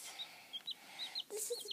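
A baby chicken gives soft, quick clucks and chirps, several short calls in an uneven rhythm, faint and close by in a quiet room.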